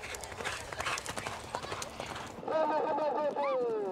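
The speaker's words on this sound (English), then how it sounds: "The festival opens with trick riding on horseback." Horse hooves clatter rapidly in a galloping rhythm during trick riding at a nomad festival on the Tibetan grasslands, loud and steady, with a crowd murmuring behind and a horse's whinny or shrill cry near the end.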